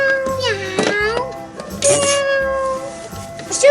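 A human voice imitates a cat's meow for a toy farm-animal playset, with a few drawn-out sliding meow calls broken by short pauses, close and fairly loud.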